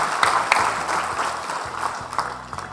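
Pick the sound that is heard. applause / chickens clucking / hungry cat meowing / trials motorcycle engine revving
applause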